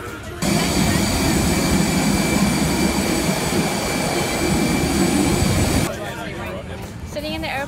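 A loud, steady engine roar fills an airplane cabin, cutting off abruptly near the end, where voices and rustling take over.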